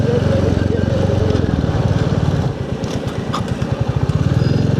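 A Bullet 350 motorcycle ridden in first and second gear over a rough road with speed breakers, its engine a steady, close, loud low thumping that turns into clearer separate pulses in the second half.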